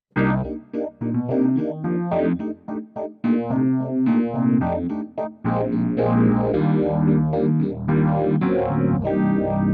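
Korg Grandstage X electric piano chords with a sweeping phaser effect, swirling tones rising and falling continuously, played alone with short pauses between phrases.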